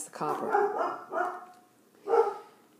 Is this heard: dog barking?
yes